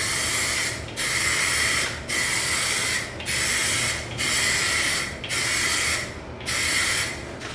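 A spray paint can lays a first coat on a stance car, seven close, loud hissing bursts of about a second each, separated by short pauses.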